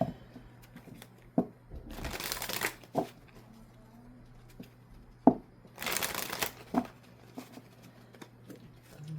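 Oracle cards are shuffled in two distinct bursts of rapid riffling, with scattered soft taps and card handling in between against a quiet background hum.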